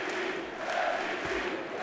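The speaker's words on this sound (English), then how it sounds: "The crowd chanting." A basketball arena crowd chants through the EuroLeague 2010 Final Four game between Regal FC Barcelona and Olympiacos Piraeus, a steady, massed roar of voices from a distance with a faint commentator underneath.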